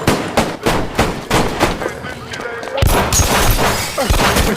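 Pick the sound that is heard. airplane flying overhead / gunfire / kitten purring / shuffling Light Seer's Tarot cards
gunfire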